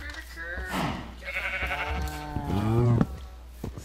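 Minecraft farm animals call out in a video game, a wavering bleat-like bray rising and falling over a few seconds, fairly close, with people talking over it.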